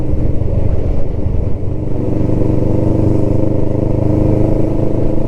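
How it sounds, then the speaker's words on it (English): A Kawasaki ER5 motorcycle engine drones steadily on a short ride, a loud, close, continuous low rumble with slight revving variation and no speech. "for today, it's just a short little blat on the bike"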